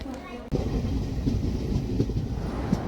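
A passenger train running on rails on a journey from Kollam railway station toward Kozhikode, heard as a steady loud low rumble from inside the carriage, with faint voices in the background.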